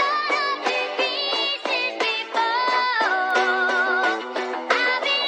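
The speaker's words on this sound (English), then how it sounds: "I basically warped this sample to tempo, I pitched it up 3 semitones, and I added this pretty harsh EQ" A rock sample warped to tempo, pitched up three semitones and run through harsh EQ that strips the lows and highs plays loud and continuous, with thin, choppy chords repeating in a steady rhythm and no voices.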